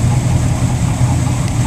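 A boat engine idles steadily at a dock while still a little cold, a loud, continuous low rumble with an even throb and no breaks or voices.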